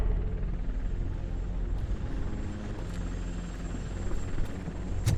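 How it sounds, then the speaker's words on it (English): A TV news helicopter flies overhead in the RoboCop: Rogue City video game, a steady rumbling rotor drone that holds at an even level throughout, with no talk over it. "That's a TV helicopter."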